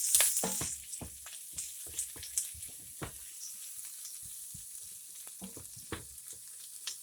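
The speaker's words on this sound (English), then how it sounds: "I'm going to saute for about 2 minutes." Garlic and ginger sautéing in a pan, a continuous close sizzle and frying crackle with occasional stirring clatter, no voices.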